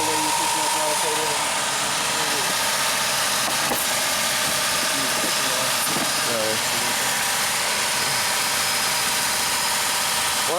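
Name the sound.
Dodge Caravan engine at high idle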